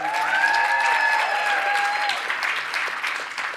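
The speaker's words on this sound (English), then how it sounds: "Everybody, round of applause to the panelists." A round of applause from a panel-discussion audience, steady dense clapping at close range that holds level and then thins slightly toward the end, with a brief voice or whistle-like tone over the top early on.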